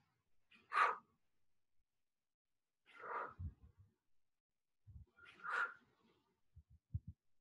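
A person exhaling audibly during floor exercise, three long breathy exhales spaced a few seconds apart in a quiet room, with faint soft thumps between them.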